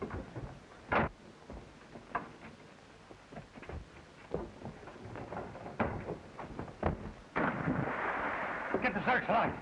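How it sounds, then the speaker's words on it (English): Sharp gunshot bursts ring out aboard a ship at night, scattered among shouting voices and commotion, with a louder noisy stretch near the end. "Are you shooting things up, McPhee?"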